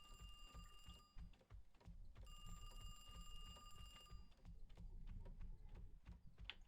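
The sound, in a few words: telephone ringing in the video game Heartworm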